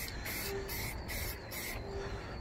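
Paint sprayed from a spray can onto faded black trim of a Jeep Wrangler: steady hissing in several short, even bursts with brief gaps, close and continuous.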